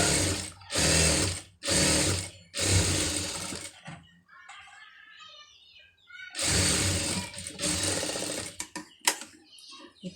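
Sewing machine stitching around a sleeve joint on a garment, heard as bursts of motor whirring and needle chatter, three short runs then a pause before a longer steady run, close and fairly loud.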